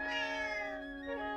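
A cat meows in The Legend of Zelda: Echoes of Wisdom, a single drawn-out, tonal in-game meow that rises and then trails off, close and clear with no talk over it.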